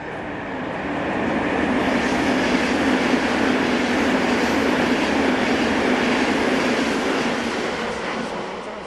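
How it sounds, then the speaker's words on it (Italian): A train passes quickly along the line and enters a tunnel, a loud, steady rush of wheels and wind that swells in and fades slightly at the end, with no voices. "Passa veloce anche oggi il treno, imboccando la galleria"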